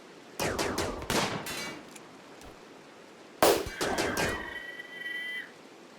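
Gunfire erupts in the colony game Rimworld as colonists fire on a target: two separate bursts of sharp metallic shots, the first around the half-second mark and a louder cluster a few seconds later, with ringing tones trailing off and no talking.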